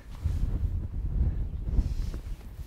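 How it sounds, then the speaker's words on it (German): Strong mountain wind buffets the microphone on the Kitzbüheler Horn, a continuous low roaring rumble with gusty swells, close and fairly loud, no talking. "Eieiei, ist das ein Wind hier."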